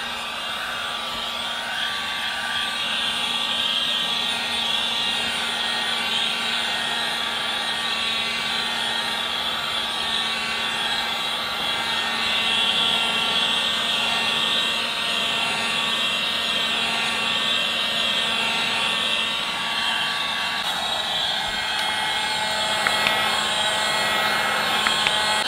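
A steady, loud whirring blower drying freshly dyed leather on a car steering wheel, holding an even airy hum with a faint whine for the whole stretch, alone with no talking.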